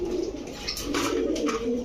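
Pigeons of old breeds such as Lalpatti, Budapest, Rampuri and Beauty coo up close in a seller's loft, giving soft low repeated coos with a few brighter calls on top. No one speaks.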